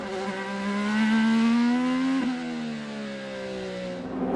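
IndyCar race cars at the 2018 Indianapolis Grand Prix road course, a loud near engine howl rising in pitch, then a shift and falling pitch as a car passes, with another engine under it.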